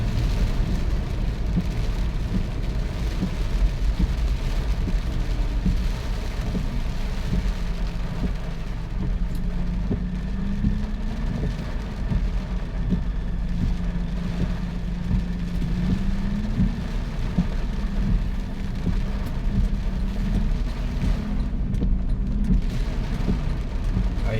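A vehicle rolls slowly through shallow floodwater during Typhoon Enteng, its engine drone a low steady rumble under constant watery swishing and rain-like hiss, with no voices.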